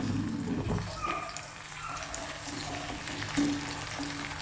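Chopped small onions fry in hot oil for Onam ginger curry, a soft, steady sizzle with faint stirring scrapes, quiet and close.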